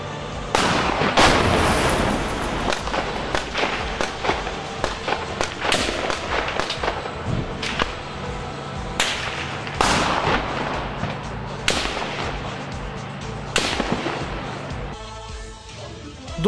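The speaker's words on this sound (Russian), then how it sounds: "И нас, и другое направление атаки очень сильно обстреливают из минометов, без откаток и самодельными снарядами увеличенной массы" Mortar and recoilless gun shelling in Jobar, Syria: repeated sharp, loud blasts and bangs at irregular intervals over a noisy battlefield background, some close and heavy, others more distant.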